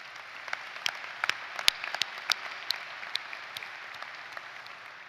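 Scattered, sparse clapping from a graduation ceremony audience at the University of Maine commencement, a few distinct claps standing out over a low, distant hall ambience, fairly faint and thinning.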